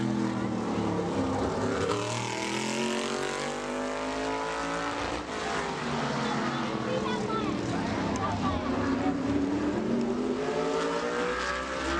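A modified race car runs a qualifying lap at Bowman Gray Stadium, its engine roaring and swelling steadily throughout, with a public-address announcer talking over it.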